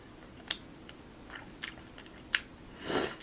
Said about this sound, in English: I feel like you guys are supposed to hear me chew.